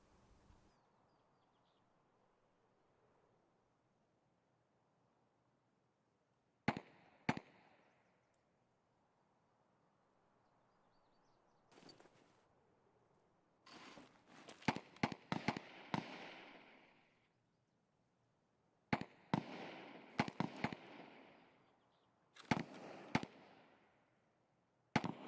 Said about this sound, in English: it's a scav shooting someone